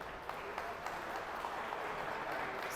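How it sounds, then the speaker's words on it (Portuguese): Faint applause from an audience at a gun-rights gathering in Belo Horizonte, a short patter of distant clapping that sounds thin and muffled. "Uma salva de palmas, Ricardo."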